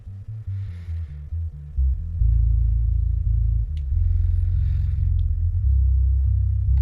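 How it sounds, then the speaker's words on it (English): A bass guitar track stripped to its low end plays deep sustained notes that shift pitch in a steady pattern, loud and rumbling with almost nothing above the bass. "And now we have only the low end on the low bass track."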